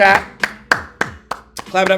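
A few separate claps spaced across two seconds, sharp and close, with a voice talking at the start and end, as a streamer claps for chat.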